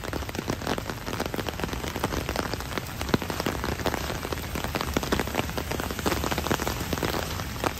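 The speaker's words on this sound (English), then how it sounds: "because of all this rain" Heavy rain pours steadily onto streets and surfaces in midtown Manhattan during a thunderstorm, a dense, continuous hiss with close, crackling droplet impacts and no talking.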